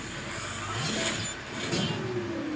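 In a racing video game, a Toyota Supra's engine revs and accelerates close up, rising and surging in pitch through a couple of quick bursts.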